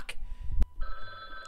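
A telephone rings briefly with a bright electronic tone during a lively online drawing game, alongside a sharp knock and a short burst of noise.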